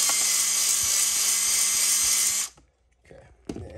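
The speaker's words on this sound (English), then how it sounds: "when you do hone, low speed on a drill, and you want to go in and out like this when you run it" An electric drill turns a hone slowly inside the cylinder of a Stihl MS200T chainsaw, giving a loud, steady whirring grind for about two and a half seconds before stopping, followed by faint handling clatter.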